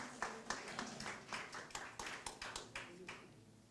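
An audience at a poetry award ceremony gives a faint, distant round of clapping, about a dozen soft claps in an uneven rhythm that slowly fades.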